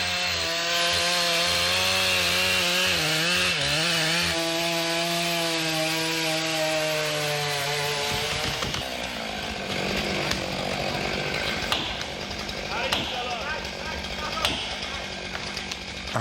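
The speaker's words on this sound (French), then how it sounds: "les bruits des tronçonneuses résonnent sous la canopée" Chainsaws cut through trees under the rainforest canopy in French Guiana, a loud sustained whine rising and falling in pitch before turning into rougher cutting and rubbing, with a voice speaking over parts of it.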